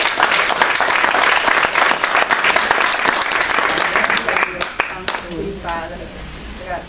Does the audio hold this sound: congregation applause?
yes